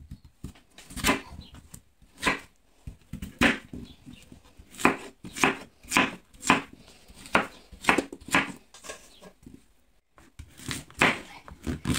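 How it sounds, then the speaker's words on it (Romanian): Knife strokes chop vegetables for a celery soup on a board, sharp distinct cuts in irregular bursts, close and fairly loud, with short pauses between runs and no talking. "haide să tăiem toate legumele și să le punem în"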